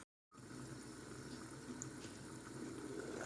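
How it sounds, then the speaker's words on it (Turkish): A pot of green beans bubbles at a gentle boil on the lowest heat, soft continuous gurgling and simmering after a brief moment of silence, quiet and close. "Şu anda kaynıyor."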